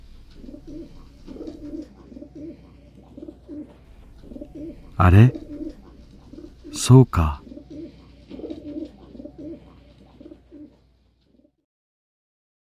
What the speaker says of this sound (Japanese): 枕元で 鳩の鳴き声がする。